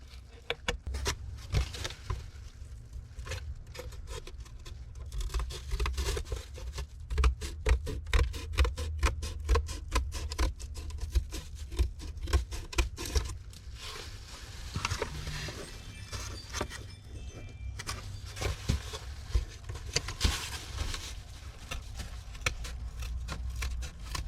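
Material being trimmed while prepping a fiberglass enclosure in a 2019 Honda Civic, with rapid rhythmic clicking and snipping bursts repeating throughout at close range over a low background hum.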